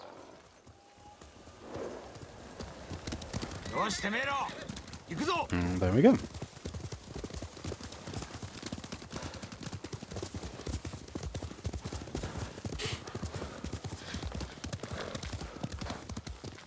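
Horse hooves clip-clop at a steady trot in the game Ghost of Tsushima, with a brief whinny near the start, continuing under someone talking throughout.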